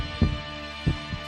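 A lid used as a foley prop mimics a heartbeat with low, dull thumps in a slow paired rhythm, close and distinct over a steady hum.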